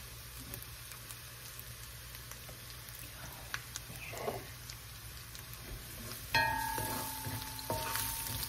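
Ingredients for beef pares sauté in a pan, giving a steady soft sizzle that turns louder and brighter toward the end, with a few light clicks of utensils.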